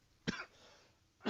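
A man on a live sports radio show coughs twice, close to the microphone, with sharp bursts about a second apart and quiet between them.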